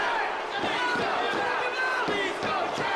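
An arena crowd at a virtual women's wrestling match in Texas chants in rhythmic waves, a broad roar of many voices with repeated pulses rising above a steady background hum.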